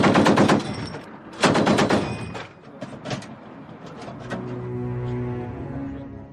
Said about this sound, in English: You can see the flash and the flame. You can see the rounds coming out. The sheer power of this weapon.